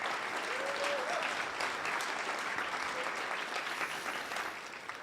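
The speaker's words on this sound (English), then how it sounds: "just an applause for all the sponsors" Sustained audience applause for event sponsors fills the room, a dense steady clatter of many hands clapping at even loudness that eases slightly toward the end.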